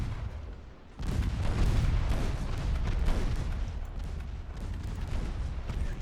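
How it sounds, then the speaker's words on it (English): Naval battle in the Ultimate Admiral Dreadnoughts warship game, torpedo hits and gunfire: after a quiet second, a dense rumbling barrage of booms and blasts rolls on continuously, loud and layered. "Finally, torpedo hit."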